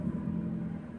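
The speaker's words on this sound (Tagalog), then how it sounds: "Engine start." A Honda Civic engine running just after starting, a steady low rumble with a humming tone, close and fairly loud for about a second with no voices.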